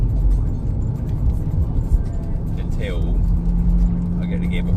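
Interior of a car driving along after a clutch job, a steady low engine and road rumble running throughout under quiet talk.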